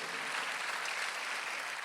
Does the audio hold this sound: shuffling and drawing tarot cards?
no